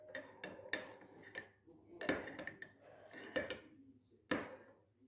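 A utensil stirs hot food in a pot, giving quiet, irregular clinks and scrapes spaced every half second or so, with brief soft rustles between; no voices.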